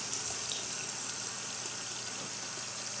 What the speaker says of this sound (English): I'm going to fill up this water and bring this with us